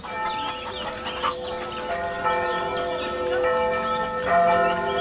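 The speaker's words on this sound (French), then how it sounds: "toutes les cloches du village se mettent soudain à carillonner pour fêter l'événement" Several village church bells ring together in a sustained, overlapping peal, with steady resonant tones layered over one another throughout.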